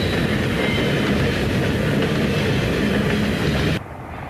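Erie Lackawanna train climbing a hill near Mount Bethel Station, a steady, loud rumble of engine and wheels on rail that continues without a break, then drops sharply near the end.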